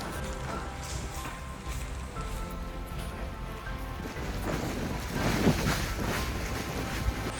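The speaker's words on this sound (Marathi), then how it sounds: "ते वाऱ्याचा वेग खूप आहे." Strong wind buffets the microphone on a foggy mountain path near the Jain temples of Girnar, a steady broadband roar with low gusty rumble that swells louder toward the end.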